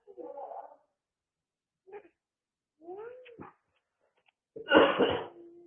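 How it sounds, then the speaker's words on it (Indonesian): A few short coughs and throat sounds come in separate bursts with silence between, the last one louder and harsher. "Kamu kan batuk."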